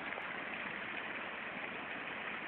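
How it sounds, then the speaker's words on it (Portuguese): A waterfall in Minas Gerais, Brazil, heard as a steady, dense rushing of falling water that holds an even level throughout, with no voices over it. "Olha a cachoeira bonita."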